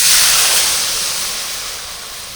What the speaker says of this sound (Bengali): এবার দিয়ে দেবো জল আমটা সেদ্ধ হবে